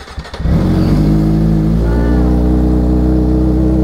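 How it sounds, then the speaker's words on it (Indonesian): A Kawasaki ZX25R motorcycle engine starts and settles into a steady, close idle for warming up, with a brief sputter at the start and a constant even drone after. "Oke, kita panasin dulu motornya brother sambil Dewi pakai sepatu."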